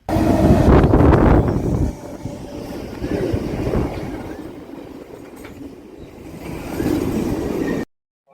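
Steady rumbling clatter of a Chennai suburban train carriage in motion, loud at first, then a continuous lower drone of wheels and rattling interior.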